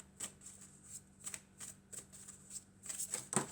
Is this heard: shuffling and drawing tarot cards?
yes